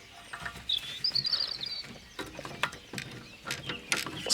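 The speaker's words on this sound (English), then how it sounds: "we're going to use a 13mm spanner or ratchet on the back end" Ratchet working on a 13mm bolt at the rear brake caliper of an Audi A4 B8, a series of faint, quick clicking bursts with bird chirps in the background and no talking.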